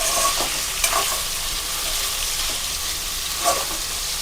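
Paneer frying in oil and ghee for palak paneer, a bright continuous sizzle close up, with a few soft stirring knocks now and then and no voices.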